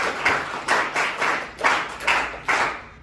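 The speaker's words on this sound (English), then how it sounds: "Have a huge round of applause for Sapan Khan." Audience clapping at a district science exhibition prize ceremony, about six evenly spaced claps in a slow, steady rhythm, moderately loud and close, with no speech.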